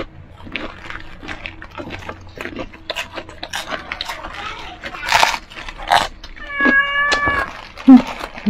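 A cat meows repeatedly and insistently nearby, drawn-out whining cries and short mews mixed with a few rustles and soft background noises.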